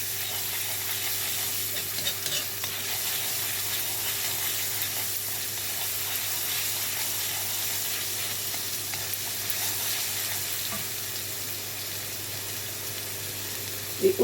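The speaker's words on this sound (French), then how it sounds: "je verse ma cuillère de ail et de gingembre que je vais laisser griller un tout" Garlic and ginger fry in a pan for vegetable and paneer wonton filling, giving a steady, even sizzle that runs unbroken and close throughout, with a faint clatter of a utensil right at the very end.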